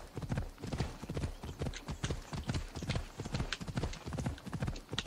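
Horse hooves clip-clop steadily in Assassin's Creed Odyssey as the mount is ridden, a rapid rhythmic patter of hoofbeats that runs the whole time, loud and close with no voices over it.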